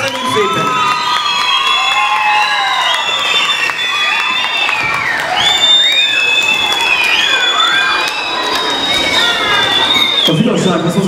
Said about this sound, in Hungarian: majd ezután csak tapsal köszönjük meg neki